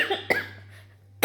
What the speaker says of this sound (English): I had a cough, like very, very violent cough attack.